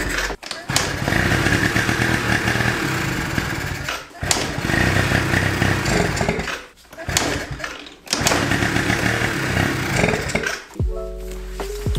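A Yamaha Riva Razz scooter with no gas in it is kicked over repeatedly, loud rough bursts of engine cranking broken by short pauses between kicks, ending with a brief clunk.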